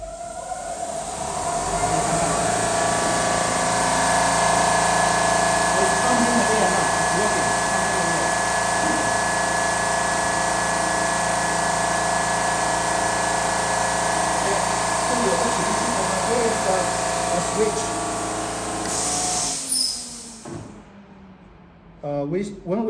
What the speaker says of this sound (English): 等下气泵会启动。